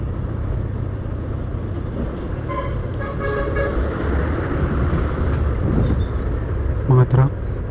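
Trucks rumble past on a road in a steady low roar, with a horn sounding briefly near the middle and a short toot near the end, while someone talks over the traffic.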